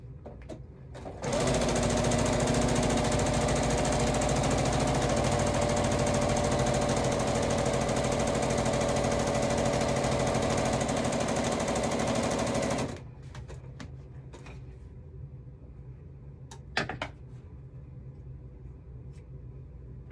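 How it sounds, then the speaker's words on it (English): Home sewing machine stitching at a crafting table, a loud steady mechanical whir for about twelve seconds that stops abruptly, followed by quiet handling clicks and a small knock. "What do you think it is about the hum of a sewing machine that we like?"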